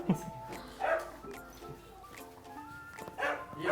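A dog yips and whimpers in a few short bursts close by, with background voices and indoor noise around it.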